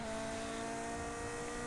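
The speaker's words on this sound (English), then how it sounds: "You can hear the outside tyre now starting to load up a little bit more" Ferrari race car in Project CARS 2 with its outside tyre loading up through a corner: a brief, loud, steady engine drone with a sustained tonal whine, no voices.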